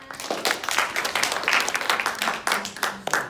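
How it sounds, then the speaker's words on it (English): A class of students applauds during a music lesson, scattered hand claps rising and falling for a few seconds at moderate distance, with a few voices mixed in. "Please give yourself a round of applause."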